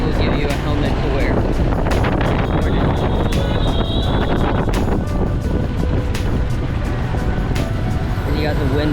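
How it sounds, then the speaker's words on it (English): Heavy wind buffets the microphone on a motorbike ride through Hanoi traffic, a loud, constant rumble with engine and street noise, and a person talks over it. "you got the wind blowing in your face"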